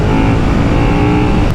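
A 2022 KTM SuperDuke R EVO naked motorcycle accelerating hard, a loud, dense, continuous engine roar heard up close without any talking.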